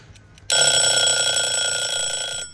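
A kitchen timer goes off during sourdough bread baking, a loud, sharp electronic ringing that starts abruptly and holds steady for about two seconds before cutting off.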